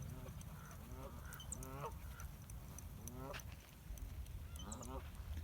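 Ducks quack and honk in short bursts outdoors at low-water Millerton Lake, a few calls overlapping, against a low background rumble and distant voices.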